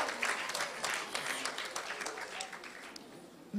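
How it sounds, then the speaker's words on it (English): An audience at a nursing induction ceremony applauds a student, with fairly faint, distant clapping and some talk underneath. "Can we applaud her, please?"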